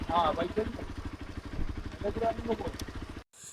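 A motorcycle passes in Kerala, its engine putting out a rapid, pulsing putter under nearby talk before the sound cuts off abruptly.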